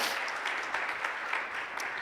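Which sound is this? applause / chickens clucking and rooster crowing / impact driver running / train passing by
applause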